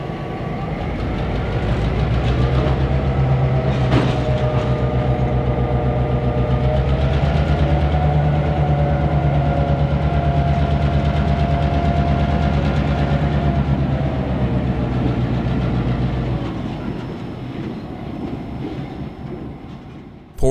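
Former Southern Pacific EMD SD7 and SD9 high-hood diesel locomotives rumble past on the Portland and Western with a steady, loud engine drone and rail clatter that eases off near the end.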